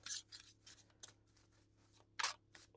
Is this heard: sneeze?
no